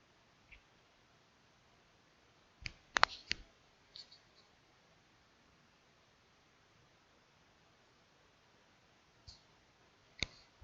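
A computer mouse gives faint, sharp clicks, a cluster of several near the start and a couple more toward the end, against a quiet background hiss.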